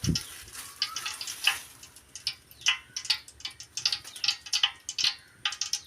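Whole spices sizzle and crackle in hot oil and ghee for biryani, with bursts of spattering popping over a steady frying hiss, close by and with no talking.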